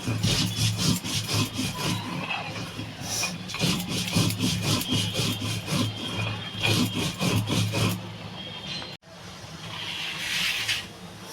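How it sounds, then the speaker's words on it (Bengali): Spices being ground by hand into a fine paste on a traditional stone slab with a stone roller, a steady rhythmic rasping scrape repeating back and forth, close and fairly loud, with a brief pause near the end. "ভালো করে মিহি করে বেটে নেবো মশলাটা"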